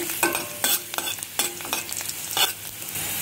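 Garlic cloves fry on a low flame for a chutney while a spoon stirs them, giving a soft sizzle under repeated close scraping strokes, with no talk.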